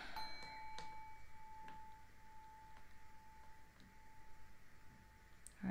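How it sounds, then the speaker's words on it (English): A bell is struck once, and its clear single tone rings on for several seconds before slowly fading out. It is fairly faint, with no talk over it. "let's ring a bell one time."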